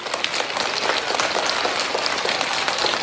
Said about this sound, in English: Now we can do one more round of applause.